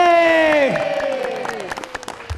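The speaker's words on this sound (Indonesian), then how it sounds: "kasih tepuk tangan untuk Bapak Ibu kasih, dong. Tepuk tangan, kasih suara." A drawn-out vocal cheer slides downward at a motivational talk, followed by scattered claps from the audience that thin out and fade.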